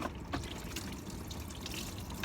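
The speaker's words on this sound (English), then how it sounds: "That's leaking all the coolant out onto the ground." Coolant from a hose on a 2001 BMW 750iL pouring onto the ground, a steady close splashing and trickling stream that carries on evenly with no talk.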